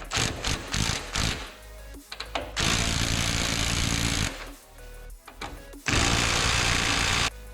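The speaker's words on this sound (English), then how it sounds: "Now I'm going to put the Ugga Dugga on." An impact wrench driving bolts on the front bumper of a 2018–2020 Ford F150 fires in two loud, sustained bursts of roughly two and three seconds each, separated by quieter clanking and handling noises, close to the microphone.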